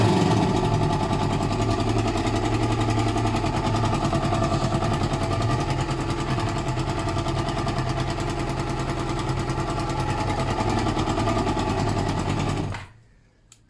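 Warm Kawasaki ZL600 motorcycle engine idling steadily up close, a dense even buzzing rattle sustained for about thirteen seconds before it cuts off abruptly.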